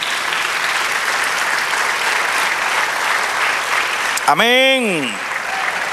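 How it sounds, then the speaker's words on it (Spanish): A church congregation claps in praise to the Lord at a sermon, a loud, continuous crowd applause that runs for several seconds until a singing or calling voice rises briefly near the end. "Denle un aplauso al Señor."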